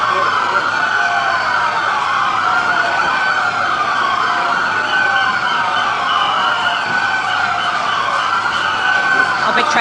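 Several emergency sirens wail continuously and loudly with overlapping rising and falling tones at an outdoor press conference in Otay Mesa, California, with a voice faintly underneath.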